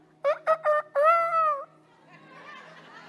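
A rooster crows once, nearby and fairly loud: a few short clipped opening notes followed by a longer drawn-out call, fading into a quiet murmur of background noise.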